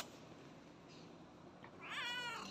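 A cat gives a single short meow near the end, close and clear, over a quiet room background with no talk.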